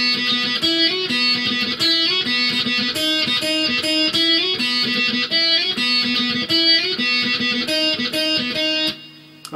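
An electric guitar plays the intro to a song alone, a busy melodic line of picked notes over chords, steady and close for several seconds.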